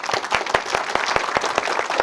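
An audience applauds to welcome a speaker, a steady wash of clapping from many hands in a hall, even and fairly loud throughout.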